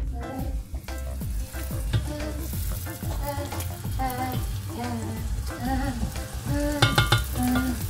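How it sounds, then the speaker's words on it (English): Mandazi dough fries in a hot pan, a constant oily crackle and bubble running throughout, with a voice or other tonal sounds faintly audible over the frying. "I have different shapes of mandazis in the hot pan"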